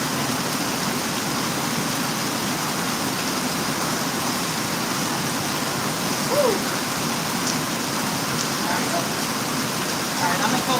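Steady rain falls during Costa Rica's rainy season, a constant dense hiss of drops on surfaces throughout, with faint background sounds and no clear speech.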